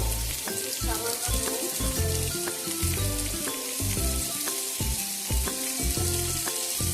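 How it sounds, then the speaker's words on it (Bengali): Dried fish (shutki) frying with vegetables in a pan, sizzling steadily and loudly while being stirred, with repeated scraping and clinking strokes of the spatula against the pan in an uneven rhythm. "একটু ভালো করে নাড়িয়ে নেব।"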